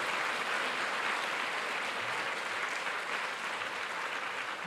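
Steady, dense applause from a congregation at a Friday night church service, a fairly distant wash of clapping holding evenly for several seconds without talk.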